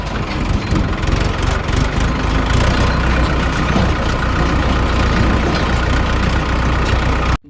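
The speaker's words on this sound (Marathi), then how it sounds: "आता हे ट्रॅक्टर घेऊन पोल्ट्रीवर लावायला चाललोय" A farm tractor's engine runs close by on the way to a poultry shed, a loud steady low rumble with a constant vibrating throb throughout and no talk over it.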